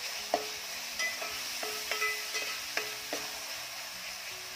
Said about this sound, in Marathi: डाळ आधी तेलामध्ये चांगली परतून घ्यायची आहे